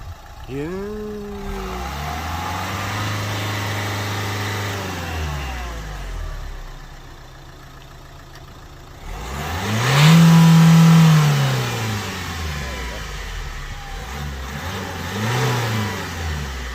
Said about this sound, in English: when I let go of the clutch, I can go a lot higher revs.